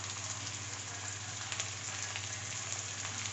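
Garlic and ginger paste sizzles in hot oil with browned onions, a steady, dense crackling fry that holds close and even throughout without a pause.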